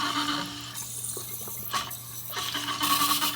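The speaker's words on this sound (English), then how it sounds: "it keeps squirting water in" Water squirts and hisses into a toilet tank as it refills through a faulty flapper setup with a float ball dropping too low, a steady close rushing with brief louder surges, no talk.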